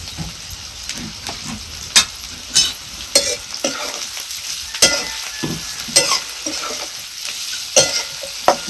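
Bitter gourd frying in spiced oil on a very low flame without water, with a steady soft sizzle under repeated scraping stirs of a spoon in the pan at an uneven rhythm, close up.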